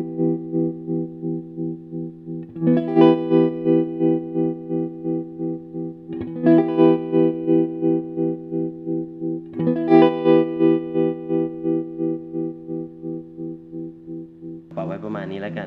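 An electric guitar plays through a handmade Rainbow Tremolo pedal. Three strummed chords ring out, each with a steady, rapid pulsing tremolo, close and clean, with no talking.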